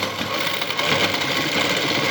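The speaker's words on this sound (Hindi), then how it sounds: "इस तरीके से इसकी सिलाई लगानी है" A sewing machine stitches gum lace onto cloth, a continuous fast mechanical whir and rattle that stays steady and fairly close throughout.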